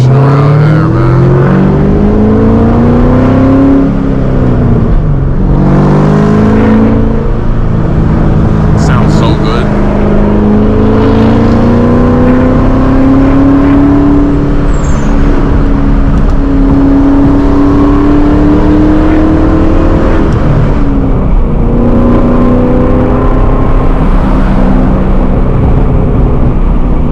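A 500hp 2003 Mustang Cobra with a near-stock exhaust, heard from the cabin while driving: loud engine drone rising through gears in repeated acceleration sweeps with shifts between them, constant and close.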